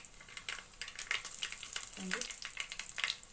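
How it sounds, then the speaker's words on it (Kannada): Curry leaves and dried red chillies crackle in hot oil for a sprouted horse gram sambar, a steady near sizzle with scattered pops and a brief stir of the pan. "ನಾನು ಮೊದಲಿಗೆ ಒಗ್ಗರಣೆ ಮಾಡ್ಕೋತಾ ಇದ್ದೀನಿ ಮೊಳಕೆ ಕಾಳು ಸಾಂಬಾರಿಗೆ"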